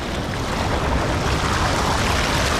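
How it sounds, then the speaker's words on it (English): A small jungle waterfall at Semuc Champey, Guatemala, pours as a loud, steady broadband rush of splashing water with no voices. "I found a little waterfall."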